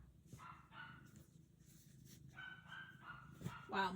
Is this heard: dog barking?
yes